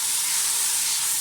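Onions and green chillies fry in a pan with a steady, close sizzling hiss throughout a brief moment, no voices present.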